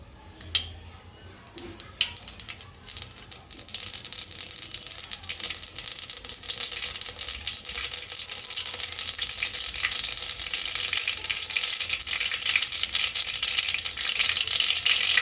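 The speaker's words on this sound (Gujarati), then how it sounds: "આપણું ઘી ગરમ થઈ ગયું છે, રાઈ નાખી દઈએ।" Mustard seeds crackle and sizzle in hot ghee in a home kitchen pan while khichdi is being made, a steady, dense frying hiss that builds and stays loud throughout, with no talking.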